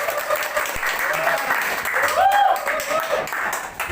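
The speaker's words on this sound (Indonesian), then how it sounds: "tepuk tangan dulu buat" People at a gathering of a political party branch applaud, a dense burst of clapping with voices talking and calling out over it throughout.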